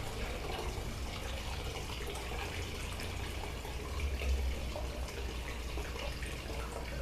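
Water pours steadily through a funnel into a gallon container for a homemade household cleaner, a continuous, soft rushing splash with no breaks.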